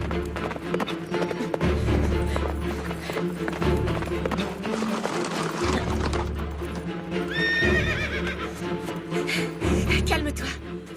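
A horse gallops with steady clip-clopping hooves, joined by a loud neigh and dramatic music, with a voice briefly heard over the scene.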